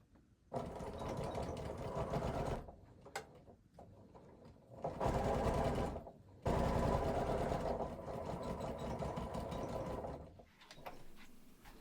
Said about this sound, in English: I'm going to take this over to my sewing machine and sew this seam with a 1/2 inch seam allowance